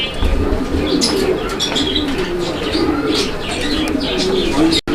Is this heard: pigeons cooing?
yes